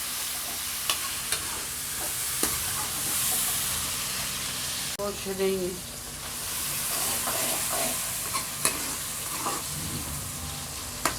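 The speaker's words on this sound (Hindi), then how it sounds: "टमाटर को थोड़ा सा भुना लेंगे।" Tomatoes and onions frying together in a pan for aloo palak, with a steady sizzle and occasional stirring scrapes close by, running through the clip with no talk.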